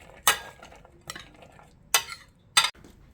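Ceviche of raw fish with hot pepper and avocado is tossed in a bowl, giving four sharp, separate scraping clinks of a utensil against the dish, close by, with quiet pauses between.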